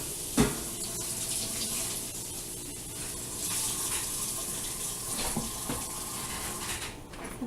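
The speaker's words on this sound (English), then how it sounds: "So I got out my roasting pan. I'm going to rinse it off." Tap water runs steadily into a roasting pan being rinsed for curing pork, a continuous splashing wash with a brief louder clatter near the start, close by and without talk.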